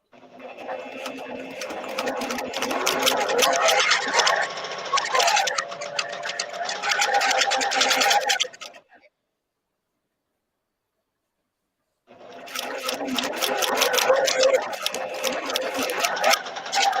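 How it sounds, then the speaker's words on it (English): A sewing machine stitches a three-yard quilt in long, steady, fast rhythmic runs, close and fairly loud, stopping for a few seconds of silence before starting up again. "We're all sewing."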